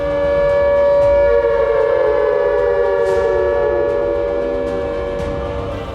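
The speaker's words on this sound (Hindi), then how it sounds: "ये वॉर सायरन तब बजता है जब जंग छिड़ती है" A loud, steady wailing war air raid siren in Pakistan holds one sustained tone throughout, droning continuously and unbroken from start to finish.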